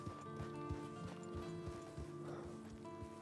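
A horse's hooves clip-clop in a steady, faint rhythm under a continuous background of game music and ambience in Red Dead Redemption 2.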